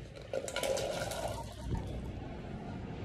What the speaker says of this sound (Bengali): আমি এখানে কতগুলো আলু ধুয়ে নিয়েছি, ছোট আলু। তো এগুলোকে আমি এখন ঢেলে দিচ্ছি জলে।